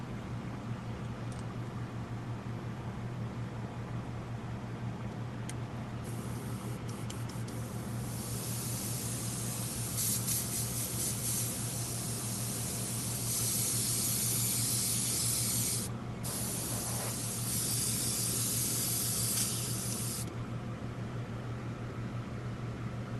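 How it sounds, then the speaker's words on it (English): An airbrush with a backpack attachment sprays rubbing alcohol in a steady hiss that comes in bursts and swells over a constant low hum, with no voices. "rubbing alcohol through it just to see how she sprays"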